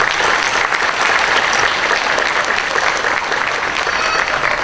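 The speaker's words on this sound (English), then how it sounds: "have a round of applause for my awards committee" An audience at a township police awards night applauds its awards committee, a dense, steady wash of many hands clapping that holds loud and even throughout.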